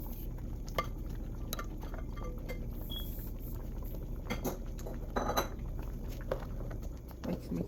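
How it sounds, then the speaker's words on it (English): Chunky okra added to a simmering Nigerian okra soup, with spoon clinks and scraping against the metal pot over a low bubbling background, close and intermittent. "Go ahead and add the chunky okra."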